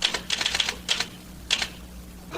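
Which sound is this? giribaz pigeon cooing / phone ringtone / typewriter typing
typewriter typing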